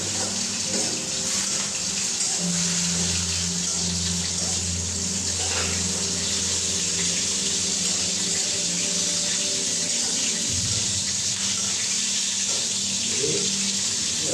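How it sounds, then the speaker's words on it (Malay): Water poured from a tap or into a pan while cooking soy sauce chicken in a home kitchen, a steady running splash lasting throughout alongside a low continuous hum. "tambah lagi sedikit air dan kering ya."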